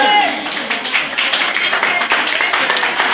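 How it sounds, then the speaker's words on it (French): A crowd claps in scattered, steady applause at a Haitian wedding ceremony just after the couple is declared married, with voices talking over the clapping throughout. "Applaudisons, plus fort."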